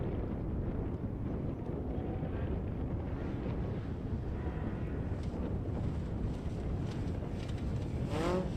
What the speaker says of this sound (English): You can just hear Clark absolutely wide open. on the backstretch here.